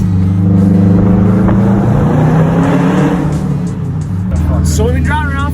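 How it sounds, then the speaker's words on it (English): A turbocharged Subaru Forester with a swapped turbo is heard from inside as it drives, its engine droning loudly and then revving up, while people talk over it. "So we've been driving around, testing some things, seeing if some things work, seeing if the car is gonna run properly."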